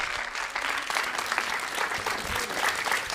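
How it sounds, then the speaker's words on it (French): A theatre audience at a Christmas show applauds the technical crew, a dense, steady wash of many hands clapping close and loud throughout. "On peut les applaudir, mesdames et messieurs"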